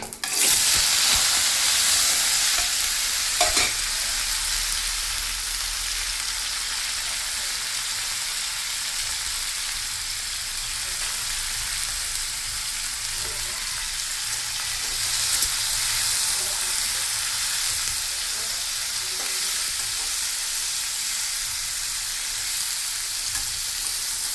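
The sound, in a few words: greens (datha) added to hot oil with cumin, frying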